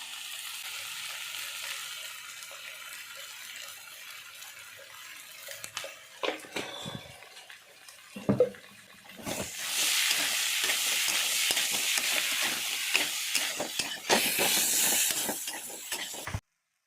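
Potatoes for aloo dum fry in a pan, beginning with a soft hiss, then spoon stirring and clinks, rising into a steady loud sizzle.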